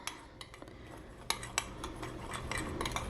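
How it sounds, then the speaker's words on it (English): Metal spoon clinking and scraping against a bowl while onion powder, garlic powder, paprika, chili powder, cumin and coriander are mixed together, a series of quiet, irregular taps and scrapes close by with no talking. "Just mix all those spices up."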